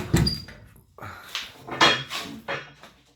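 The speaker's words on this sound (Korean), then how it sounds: "제 문을 닫아놓고요." A door being shut indoors beside a wood-burning stove, giving a few close wooden knocks and clatters in quick succession.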